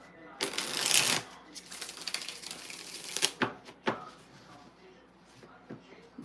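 A tarot card deck shuffled by hand up close, with crisp papery riffling bursts, the loudest near the start, followed by a few sharper snaps and softer shuffling rustles.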